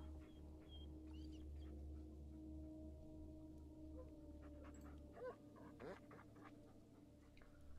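A dog in the Blair Witch video game pants and whimpers softly over a steady low hum, with faint scratching and a brief whine late on.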